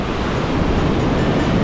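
Strong wind buffeting and surf on a Philippine beach in Davao Province, a dense, loud roar with no speech over it.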